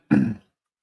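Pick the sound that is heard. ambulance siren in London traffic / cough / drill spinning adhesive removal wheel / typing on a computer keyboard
cough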